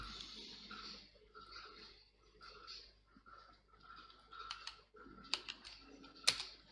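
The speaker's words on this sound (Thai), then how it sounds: "เดี๋ยวผมพิมพ์ชื่อ ไป ก่อน นะครับ" Light typing on a computer keyboard, sparse soft key taps and a couple of sharper clicks, faint and close over quiet room noise.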